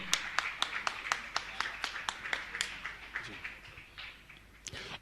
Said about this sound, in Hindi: जोरदार ताली बजाकर उनका सम्मान करें।